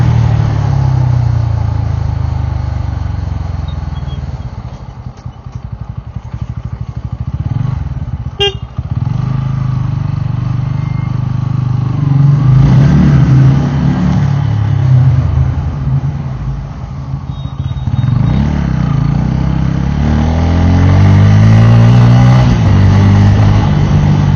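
A Bajaj Pulsar N160 motorcycle engine drones loud and close while riding, with its pitch climbing and falling as it revs, and wind rushing and clattering behind it the whole way.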